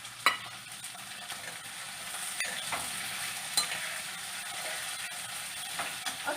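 Onion and vegetables fry in a pan while a utensil stirs them, giving a steady close sizzle with scraping strokes and a couple of sharper clinks, heard alone without speech.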